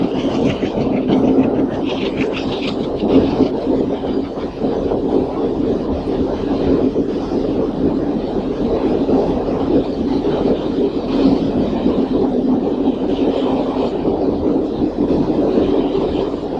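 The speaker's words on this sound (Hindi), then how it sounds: "यहाँ पुल भी है और रेलगाड़ी भी" A train crosses a bridge with a loud, steady, close rumble of wheels and rail cars, a faint clickety-clack and some wind buffeting the microphone throughout.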